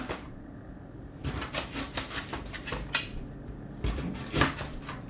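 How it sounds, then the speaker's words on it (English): A knife chops fresh ginger into slices on a cutting board, a series of close, sharp knocks arriving at an uneven rhythm after a brief quiet start. "And just cut it into slices."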